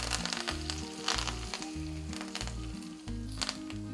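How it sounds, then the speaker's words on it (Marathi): Loud sizzling and crackling of a hot tempering of mustard seeds, garlic and chilli poured over rice, hissing continuously with bursts of popping, close up, with a low hum beneath. "मोहरी लसूण आणि तिखट अशी फोडणी केली ती आपण आता आपल्या भातावर होतोय"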